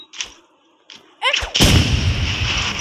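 A bomb goes off in the Roblox game Rivals: a few short clicks and a rising whoosh, then a loud, sustained blast with a rumbling tail filling the rest of the moment.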